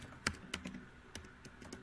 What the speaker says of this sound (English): I'll start typing some questions in the search box.